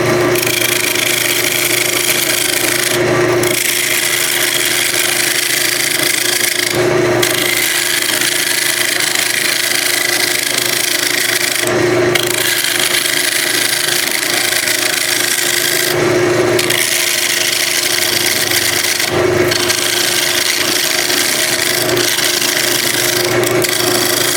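A scraper works a spinning piece of wood on a running lathe, giving a steady loud rasping hiss with a motor hum beneath, interrupted by brief dips every few seconds as the tool lifts away; no speech.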